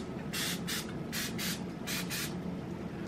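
Baking spray hisses into a muffin pan in a home kitchen, about six short bursts in a steady rhythm over a constant background rumble, close and moderately loud, with no talking.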